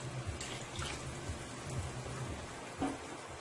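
Hot water poured steadily into a pot of Guyanese chicken stew, a continuous splashing, rain-like pour heard close up and alone, with a small bump of splashing near the end.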